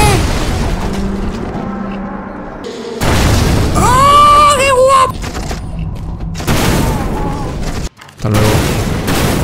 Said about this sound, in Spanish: Me gustan las explosiones de este juego.